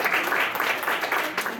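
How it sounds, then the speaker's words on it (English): Audience at an anime convention game show applauds, a dense, steady wash of clapping with a few faint voices mixed in. "so let's give a round of applause."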